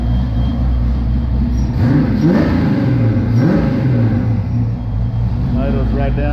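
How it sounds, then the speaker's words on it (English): A 1993 Ford Mustang Fox body GT gives a quick rev, the engine note swelling and falling back toward idle, close and loud, with someone talking over it. "Give it a quick little rev here."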